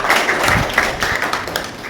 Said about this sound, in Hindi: चलिए जोरदार ताली से हौसला बढ़ाइए